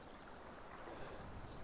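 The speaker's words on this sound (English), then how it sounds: "The water is rushing through here." Stream water rushes past close by in a continuous, soft, broadband wash of gurgling flow.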